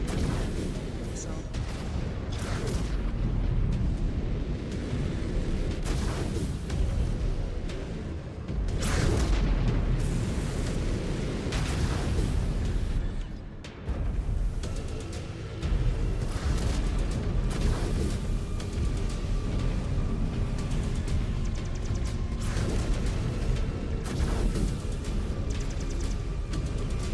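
Missile explosions in MechWarrior 5: Clans, heavy booms and rumbling blasts rolling almost continuously, with a brief lull midway, under a dense roar of mech combat and occasional voices.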